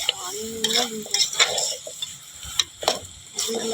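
Mutton with coarse salt and coriander being stirred and fried in chili on a wood-fired stove, close crackling sizzle under irregular scraping and knocking of a utensil against the pot.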